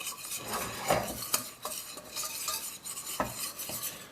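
Utensil stirring flour cooked in butter in a pan for a beef lasagne sauce, working out lumps; repeated close scraping and tapping strokes with a light sizzle underneath, no voices.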